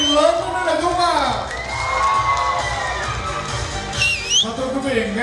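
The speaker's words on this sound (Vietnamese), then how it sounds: "một lần nữa xin quý vị một tràng pháo tay lớn hơn nữa được không ạ?" A crowd cheers, shouts and whistles at a Hmong New Year festival in Sapa. The sound is a steady, lively din under a speaker's amplified voice, with a bright whistle near the end.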